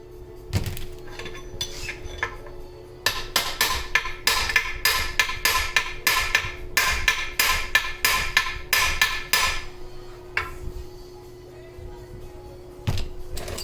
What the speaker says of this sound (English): we'll get a drift and we'll tap that bearing out